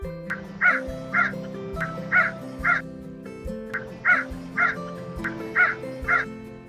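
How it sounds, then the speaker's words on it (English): A crow caws repeatedly in a steady rhythm, loud and close, over a sustained musical background. "you guessed right. It's a crow."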